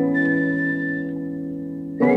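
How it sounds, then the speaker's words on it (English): A sustained whistled tone rides over a backing of music, holding a long note before the instruments swell again. "Nice little whistle."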